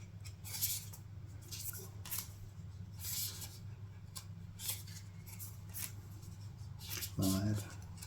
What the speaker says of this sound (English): I'm going to draw one more card.